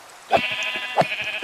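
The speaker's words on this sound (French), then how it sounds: "Les moutons, les moutons, les moutons." Two short sheep bleats in a video game set in a ruined world, spaced about half a second apart over a steady synthetic background tone, fairly close and moderately loud.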